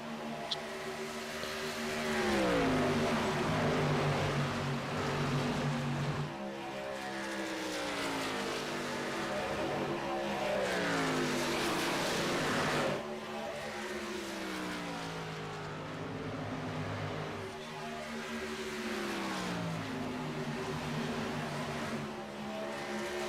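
Racing trucks in a truck series race at Atlanta roar past in repeated waves, each engine whine rising and then falling in pitch as the pack sweeps by, loud and continuous with no talk.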